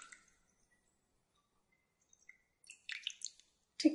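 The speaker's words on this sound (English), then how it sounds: "Take the big pieces out of the water." Quiet wet drips and a soft squishy splash as boiled red cabbage leaves are lifted from dye water, a few scattered drops, close and faint.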